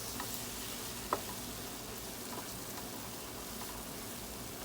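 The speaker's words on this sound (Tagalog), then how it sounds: "Nang haluin hanggang madurog ng maigi ang ating mga ingredients." Salmon and fermented tofu in salted black bean sauce sizzle and fry in a pan while being stirred, giving a steady close hiss with a few soft scraping clicks and no talking.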